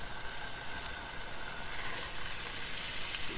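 Buttered buns on a camping griddle give a steady, faint sizzle and gentle frying hiss, unbroken and without voices.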